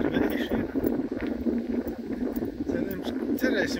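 Outdoor wind buffeting and rushing steadily over a hazy, smoky day, with someone talking throughout on top of the noise.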